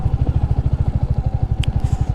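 An NS motorcycle engine thumps in a fast, steady rhythm of low pulses, loud and close, while riding an off-road forest track near Suryachaur, Nuwakot, with a brief sharp clatter partway through.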